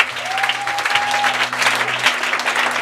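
A church congregation claps and cheers in praise, a dense, loud sustained roar of applause with a held tone and low hum running underneath.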